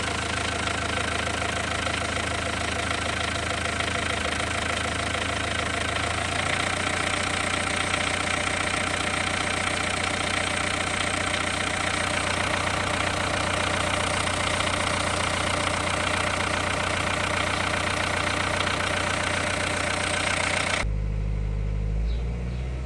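A Renault 1.5 dCi diesel engine with Delphi injectors idles steadily with a low, even rumble and rattle, close by and continuous, briefly changing tone near the end.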